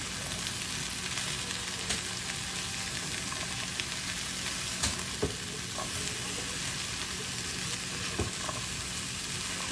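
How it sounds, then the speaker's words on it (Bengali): Chopped okra fries with spices in a pan, making a steady, even sizzle with occasional light ticks and scrapes as it is stirred, and no voices. "এরপর আমরা সেই কুচি করা ঢেঁড়স কুচি দিয়ে দেব এবং সুন্দর করে সব মশলার সাথে মিশাবো এবং ফ্রাই করতে থাকবো যতক্ষণ না ঢেঁড়সটা নরম হয়ে আসে"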